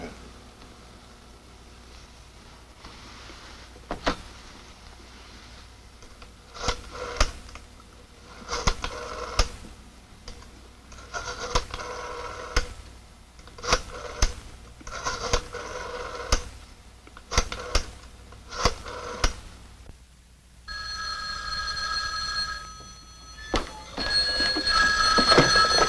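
A 1962 telephone being dialed by hand, a run of sharp evenly spaced clicks under a faint background hum, followed by a brighter ringing tone at the end.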